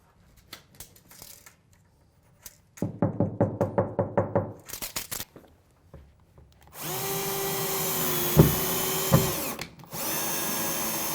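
Power drill driving screws while fitting built-in furniture: scattered light handling clatter, then a quick series of about ten short drill bursts, followed by a longer sustained whine with a couple of sharp knocks near the end.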